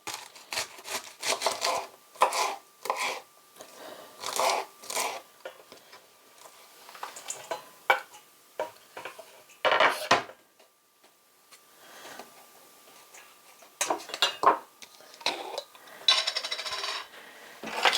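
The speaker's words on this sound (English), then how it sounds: "It says to shred it finely, so that's what I'm attempting to do." Cabbage shredded finely with a knife, rapid irregular bursts of crisp slicing and chopping taps on a board, close and alone, with short pauses between runs.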